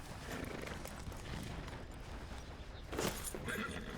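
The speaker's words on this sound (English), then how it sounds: "Horses." Horses in Red Dead Redemption 2 neigh near a ranch fence, with a steady patter of hooves and shuffling underneath and a sharper whinny standing out near the end.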